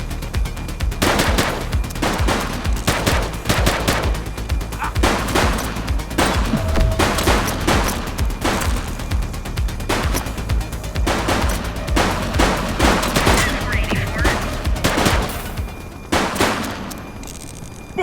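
Heavy gunfire from a police shootout in the video game The Precinct: loud, dense bursts of automatic fire and single shots crackling almost continuously, up close and dominating the mix.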